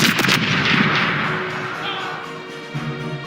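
Naval cannons on a ship's starboard side fire in the Corsairs Legacy pirate game: a loud broadside burst opens, then a long rumbling boom decays, with a faint voice underneath.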